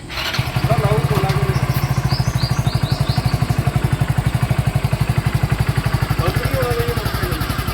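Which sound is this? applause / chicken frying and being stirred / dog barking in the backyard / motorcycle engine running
motorcycle engine running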